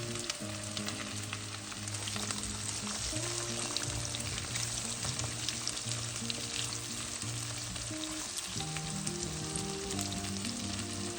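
Food fries in a pan with a continuous crackling sizzle as it is mixed, close and quiet, with a low steady hum underneath and no talking.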